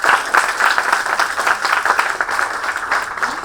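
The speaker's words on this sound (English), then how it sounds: "Can we have a special round of applause for her?" Steady audience applause fills a book launch event hall, dense and continuous clapping from many hands at close range, with no voices over it.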